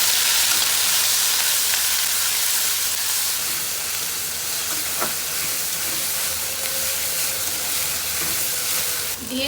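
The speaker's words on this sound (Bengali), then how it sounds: "প্রথমে তেল গরম করে এখানে দিয়ে দিয়েছে পেঁয়াজ কুচি, তারপর দিয়ে দিচ্ছে পেঁয়াজ বাটা, আদা রসুন বাটা, জিরা বাটা আর পরিমাণ মতো লবণ" Onion, onion paste, ginger-garlic paste, cumin paste and salt fry in hot oil for a prawn and vegetable dish, giving a loud, constant hissing sizzle with faint stirring scrapes throughout.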